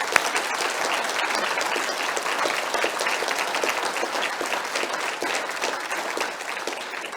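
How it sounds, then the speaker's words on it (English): Sustained audience applause for Deborah at a keynote event, a dense, steady wash of many hands clapping that holds at an even level for several seconds without pause. "So Deborah, a really round of applause for everything you've done."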